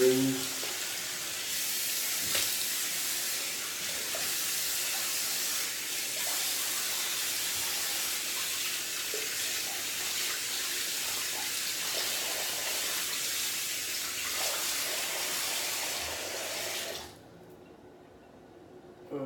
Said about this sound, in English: Now a little bit of a rinse.